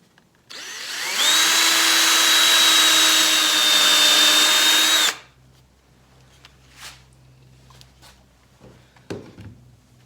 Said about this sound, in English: I'm just drilling those holes out now